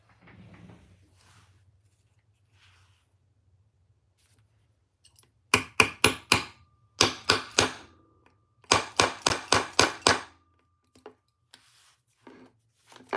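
Hammer setting metal rivets in a quiet workroom: three quick bursts of sharp, evenly spaced taps, four to six blows each, separated by short pauses, loud and close.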